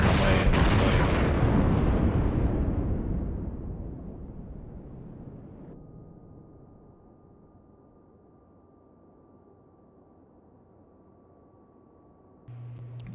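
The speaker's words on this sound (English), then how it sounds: "Plunging fire works pretty damn good on the Tirpitz." A loud heavy gun blast from a North Carolina battleship's main guns in World of Warships opens alone, its rumbling boom decaying slowly over several seconds into a low steady hum, with a fresh low rumble rising near the end.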